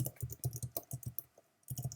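Quick bursts of keystrokes on a computer keyboard, close and crisp, with a short pause before a final flurry of typing.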